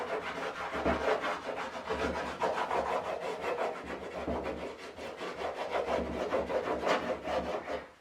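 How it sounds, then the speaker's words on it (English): A blue crayon is rubbed back and forth on paper while shading, making a continuous, close, raspy scratching with rhythmic strokes that keep going without pause. "Now we're going to get a blue crayon and we are going to shade around our little island."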